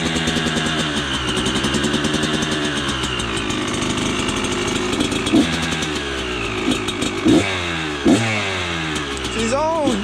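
Dirt bike engine idling roughly with an old carburetor and year-old gas, a loud close rattling putter that rises and falls in short throttle blips, with people talking nearby.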